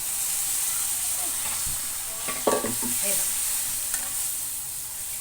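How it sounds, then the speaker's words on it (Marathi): Cooking water from a pressure cooker poured into a hot pan for a bean-pod curry, giving a steady sizzle and hiss with a brief splashing burst midway and faint stirring. "हे मी कुकरमधलं पाणी जे होतं ना ते त्यात थोडं टाकणार आहे मी."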